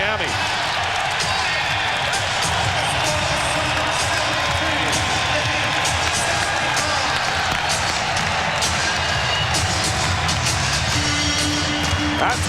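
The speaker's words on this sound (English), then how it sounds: "That's why they're cheering." Basketball arena crowd at a 1997 Seattle versus Miami Heat game during a timeout, a dense, loud, continuous roar of cheering and noise with a commentator talking over it throughout.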